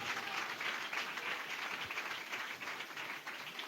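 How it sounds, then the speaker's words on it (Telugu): A church congregation breaks into applause, a dense, continuous wash of clapping from many hands that holds steady throughout. "కొట్టు చప్పట్ల."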